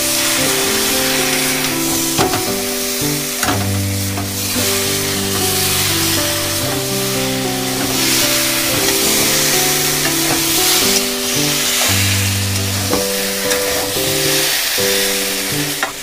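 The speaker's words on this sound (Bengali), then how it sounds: "আমাদের মশলাটা কষানো হয়ে গেছে, ভেজে রাখা এসর আর আলুগুলো দিয়ে দেব।" Fried jackfruit and potatoes go into cooked-down masala for an echor chingri curry, raising a steady, loud sizzle and hiss that runs throughout beneath prominent background music.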